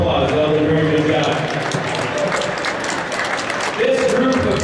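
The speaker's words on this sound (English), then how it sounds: "Let's give them a round of applause." Audience applause for students who have just performed at a black belt karate event, broad sustained clapping from a crowd filling the whole stretch at steady loudness.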